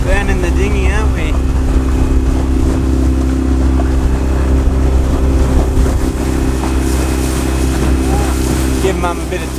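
A dinghy's outboard motor drones steadily while cruising an anchorage among boats in Cid Harbour in the Whitsundays, a constant low hum with wind buffeting the microphone throughout.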